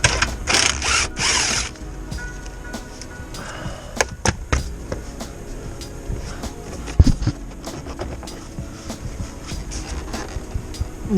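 A hand ratchet loosens the airbag bolts inside the dashboard of a second-generation Nissan Xterra or Frontier during a heater core job: a burst of rapid clicking, then sporadic clicks and metallic taps, close-up with no speech.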